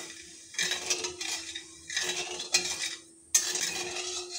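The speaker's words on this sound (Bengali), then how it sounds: "চিনিটা গলে যাওয়া দিয়ে এভাবে নাড়তে থাকবো" Sugar and water stirred in a wok to make syrup, a metal spoon scraping and clinking against the pan in short bursts separated by brief pauses, with a faint steady hum beneath.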